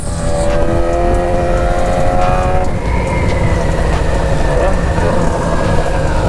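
A BMW S1000 motorcycle fitted with a new exhaust revs hard and loud, its engine note climbing and falling through several sustained pulls, with faint voices in the background.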